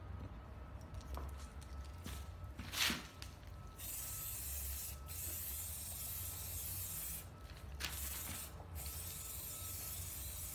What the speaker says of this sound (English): I'm going to spray the outside of it so that you can get a look